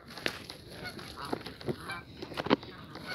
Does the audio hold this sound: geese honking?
yes